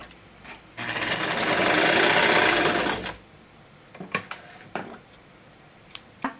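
A sewing machine stitches a dress strap, running in one continuous loud whirring burst of about two and a half seconds, followed by scattered clicks and fabric handling noises.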